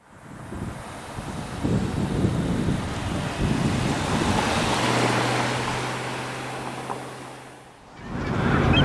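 Waves at sea wash and surge against a boat over heavy wind buffeting the microphone, with a steady low hum in the middle and the roar swelling again at the end.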